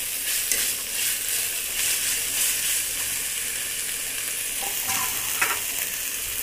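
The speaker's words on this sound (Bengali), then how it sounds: "এই আমি এবারে লাল লাল করে একটু কষিয়ে নেব মশলাটা।" Onion, ginger and garlic paste masala frying steadily in a pan, a continuous close sizzle with occasional stirring scrapes and no voices.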